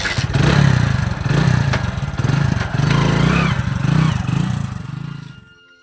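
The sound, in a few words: motorcycle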